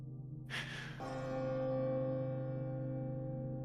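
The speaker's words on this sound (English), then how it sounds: "You guys hear the silent bell, as if it's coming from above, like a chapel bell." A chapel bell tolls from above during a dark fantasy tabletop roleplay. A brief breathy swell gives way to a loud, sustained ringing tone that holds steady without fading.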